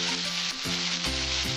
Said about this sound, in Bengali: এখন আমি কুমড়োটা ছেড়ে দিচ্ছি।